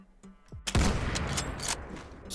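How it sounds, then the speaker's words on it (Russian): A sniper rifle fires once in the game Garry's Mod, a sharp, loud blast that rings out into a long rumbling decay after a quieter lead-in. "Снова выстрел, слушай,"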